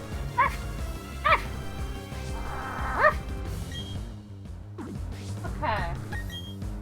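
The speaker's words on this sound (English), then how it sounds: "Bark puppy, bark." Short yipping, dog-like barks from a Pokémon in Pokémon Shining Pearl, several separate calls over a steady game music bed with faint talk, rising and whimpering toward the end.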